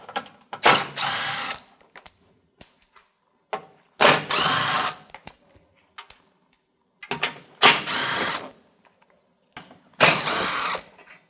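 A power ratchet spinning out 10mm bolts from the plastic undercarriage shield of a 2007-2017 Jeep Compass, four loud whirring bursts of about a second each, separated by quiet gaps with small clicks.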